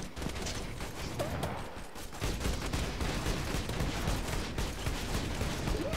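Continuous turret fire in the video game Borderlands 2, a dense rattling stream of shots with brief gaps, mixed with other game effects at moderate level and no speech.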